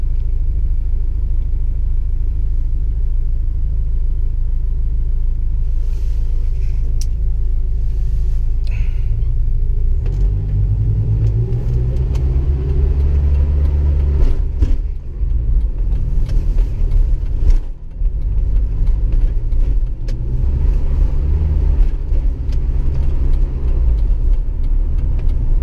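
A Jeep Wrangler SE drives along after a DiamondLube treatment, its engine and road noise a steady low rumble heard from inside the cabin, fairly loud and continuous with brief dips and no talking.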